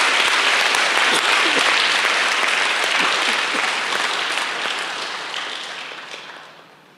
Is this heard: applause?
yes